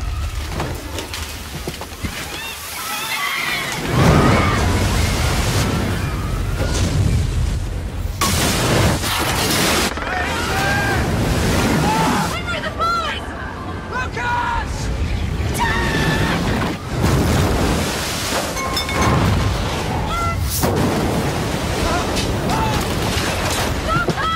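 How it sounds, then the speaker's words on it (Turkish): Tsunami waves surge ashore in a film disaster scene, heavy roaring rushes and booming crashes that rise and fall loudly across the span, with a voice talking over parts of it. "Bakın, tsunami'nin gelişi bu."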